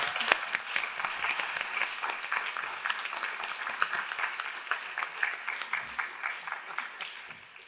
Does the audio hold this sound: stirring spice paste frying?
no